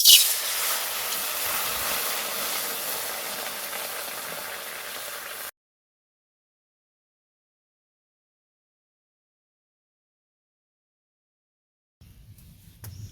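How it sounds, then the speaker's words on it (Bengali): Water heating to a boil in a wok gives a steady, moderate hiss and bubbling for about five seconds, then cuts off abruptly into silence before a faint noise returns near the end. "জলটা ফুটে উঠেছে।"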